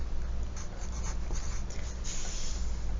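Marker or pen writing numbers on a board during a math lesson, a steady close scratchy rubbing with short stroke accents over a constant background hum.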